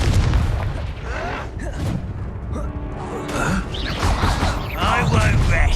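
Confringo fire spell blasting in the Hogwarts Legacy video game, deep booming explosions at the start and again in the second half, mixed with game voices and clattering effects.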